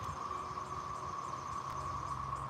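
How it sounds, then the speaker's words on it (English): Cicadas drone outdoors in a steady, mechanical-sounding buzz that holds at an even, fairly faint level without pause. "And this is what the cicadas sound like."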